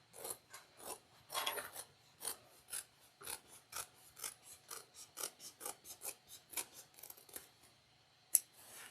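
Scissors snip repeatedly through fabric seam allowance while trimming the seams of a triangular shoulder bag, a steady run of short, crisp close-up cuts with brief gaps and one sharper snap near the end, no talking.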